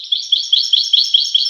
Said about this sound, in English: And he just merges in with the other house finches, and just as happy as a clam.